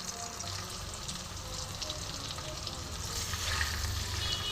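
Cumin and dried red chilli paste, thinned with water from rinsing the mixer jar, sizzles and bubbles steadily in an oily pan, a constant close hiss that swells slightly toward the end, with no voices.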